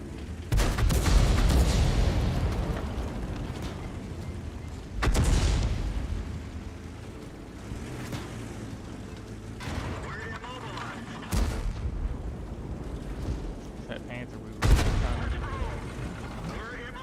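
Tank cannon shots in World of Tanks while driving a VK 30.02 D, several heavy booming blasts spaced seconds apart over a rumbling engine bed, with someone talking between shots.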